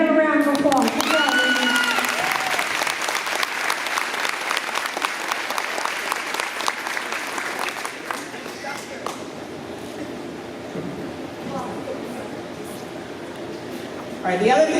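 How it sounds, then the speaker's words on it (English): An audience at a school board of education meeting applauds an 8th grade team with sustained clapping that fades gradually, then gives way to quieter room sound with a voice speaking near the end. "So give them a round of applause"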